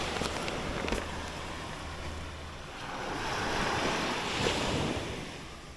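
Ocean waves wash onto a Jamaican beach, a steady rushing surf that swells louder midway, with wind buffeting the microphone throughout and no one speaking.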